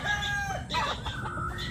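A backyard rooster crows close by, one drawn-out call lasting under two seconds over a steady low rumble of background noise.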